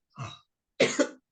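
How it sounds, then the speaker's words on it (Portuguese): A man clears his throat in two short, rough bursts: a lighter rasp first, then a louder, fuller hack with a double push, close and alone in a quiet room, no words spoken. "estou com um pigarro aqui na garganta, está me atrapalhando"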